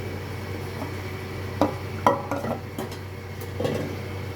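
A spoon stirs shukto with mustard paste, ginger paste and milk in a pan, producing scattered scraping clinks and soft sloshing over a low steady background hum.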